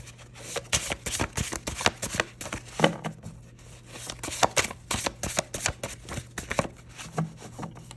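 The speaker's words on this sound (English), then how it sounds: "Really hard to shuffle these, they look so sticky together" Tarot cards, somewhat sticky, are shuffled by hand in quick, irregular bursts of riffling and slapping, close and crisp, with brief pauses between.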